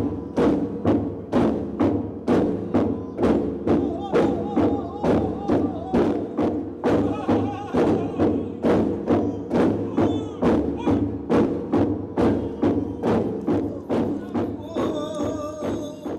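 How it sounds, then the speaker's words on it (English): A sacred log drum beaten at a spring festival in Nagaland, a steady run of deep hollow thuds at a brisk even pace, roughly two strikes a second, resonant and close, with faint voices rising near the end. "First, the sacred log drum was beaten."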